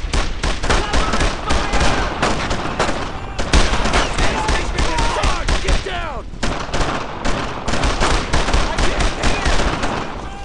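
Gunfire in Brothers in Arms: Road to Hill 30, a continuous rattle of rifle and machine-gun shots stacked into a loud, dense barrage that runs throughout, with shouted voices underneath.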